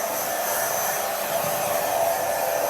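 A hair dryer blows with a steady, even whoosh throughout, close and constant with no talking.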